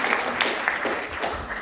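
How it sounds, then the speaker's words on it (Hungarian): Applause fills a student theatre festival audience in a brief, steady wash of many hands clapping at moderate volume. "Steinwender Józseféknek, de egy nagy tapsot így a távolból is megérdemelnek"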